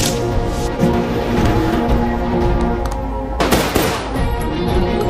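Gunfire rings out at a shooting range in a film scene: loud, rapid shots and bursts, with a dense volley near the end, layered over a sustained musical score.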